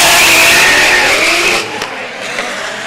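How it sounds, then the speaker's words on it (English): Drift car at a Formula Drift ProAM round at Sebring Raceway, engine screaming loud on throttle with squealing tires, then easing off as the sound drops and fades slightly. "Look at him on the gas, being very smart about his throttle patterns."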